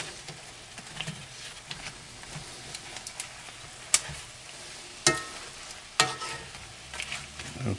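BBQ shrimp fry in a pan with a continuous sizzle while the pieces are turned over, with a few sharp clacks of the utensil against the pan. Nobody speaks.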